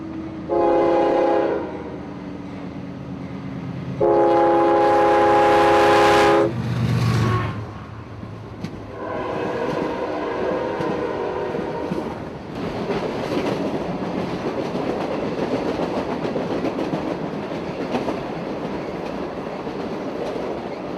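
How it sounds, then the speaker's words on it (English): A train horn blasts twice, loud and near, then a long freight train of empty Tropicana juice cars rumbles and clatters past steadily for many seconds. "That was the juice train, the empty juice train."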